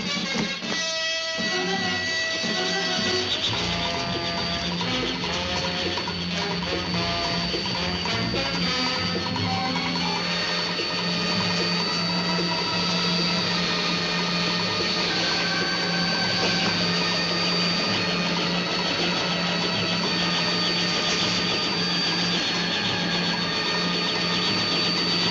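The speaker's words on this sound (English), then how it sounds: "A chopper!" A helicopter engine drones steadily and loudly throughout, a continuous mechanical whine with a constant low hum and no pauses.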